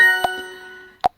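A cell phone made in Japan gives a notification ding, two bright chimes spaced about a second apart, the first ringing out and fading before the second strikes.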